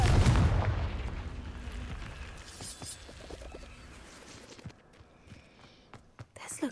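A Confringo blasting spell goes off in Hogwarts Legacy, a loud fiery burst up front that decays into crackling debris and scattered impacts, with a few sharp pops near the end.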